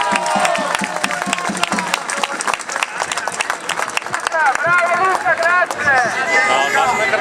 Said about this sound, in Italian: gli applausi facciamoli per chi che la organizza